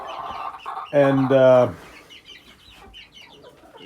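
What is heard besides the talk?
rooster crowing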